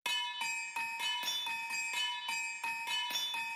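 Bright ringing bells opening a pop song strike in a quick, regular rhythm, each chime sustaining into the next, forming a repeating musical pattern with no voices.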